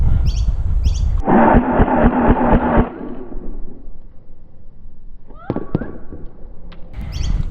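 LDT MP7 gel blaster firing 300 fps gel balls at a target, heard as a rapid burst of sharp, loud pops followed by scattered softer impacts and snaps at close range.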